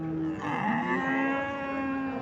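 Cattle at a livestock market give a single drawn-out moo, loud and close, with no talking over it.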